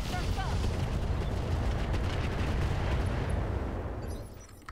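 Mech weapons fire all at once in the video game RogueTech, a dense roaring barrage of shots and blasts that stays loud and continuous before trailing off near the end.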